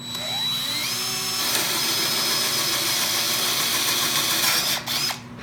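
A pedal-operated woodworking mortising machine plunges its chisel into wood to cut a mortise, giving a steady loud motor whine and grinding hum that holds for several seconds before tailing off.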